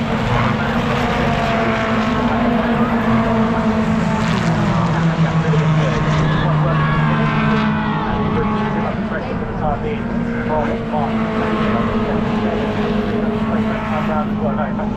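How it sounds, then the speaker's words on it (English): MG race cars in an MGOC Championship race at Brands Hatch, engines droning steadily and loudly throughout as the cars run through a bend and onto the straight, with commentary voiced over the top. "They go through around Hill Bend, down the straight they go now, out of Hill Bend"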